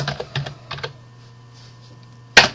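Computer keyboard keys pressed while modelling a jam cabinet side panel, a few soft taps at the start followed by one sharper, louder keystroke near the end in a quiet room.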